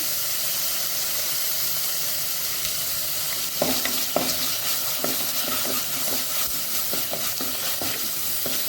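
Tomato and coriander stems fry in a pan with a steady broadband sizzle, and sharp stirring scrapes and taps come through clearly over it partway in. No one speaks.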